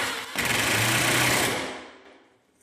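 A power driver spins a pan head screw into a closet door track for mirrored sliding doors, a close, high whirring burst lasting over a second before winding down.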